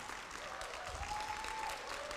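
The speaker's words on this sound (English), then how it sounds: "can we please get another round of applause for our keynote speakers today" Conference audience applauds the keynote speakers, a faint, steady wash of many hands clapping heard from a distance, with a brief faint tone running through it.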